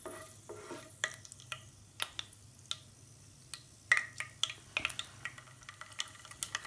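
Fenugreek seeds stirred and fried in a pan for a fish curry: irregular spatula scrapes and light clicks over a faint sizzle, close up, with a steady low hum underneath and no talking.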